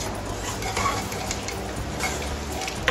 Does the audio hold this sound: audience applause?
no